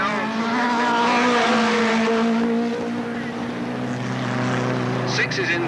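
Race cars at Alwalton Raceway in 1983 roar past in a pack, engines droning and shifting pitch close by, with a commentator talking over the racing.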